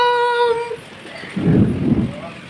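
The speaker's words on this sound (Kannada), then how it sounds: "ಮಿಂಚು ಗುಡ್ಗು ಎಲ್ಲ ಬಂದು ಫೈನಲಿ ಮಳೆ ಬಂತು." Thunder rolls low and heavy through a rainstorm in Bangalore, a deep rumble building after a short moment of a voice, then fading away.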